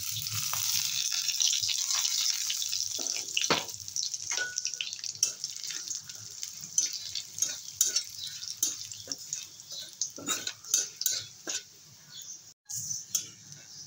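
Coriander seeds, cumin and two bay leaves fry in hot oil in a pan, a soft steady sizzle broken by frequent sharp spatters and scrapes of stirring, close and fairly quiet.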